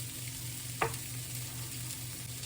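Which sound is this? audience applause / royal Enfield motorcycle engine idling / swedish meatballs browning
swedish meatballs browning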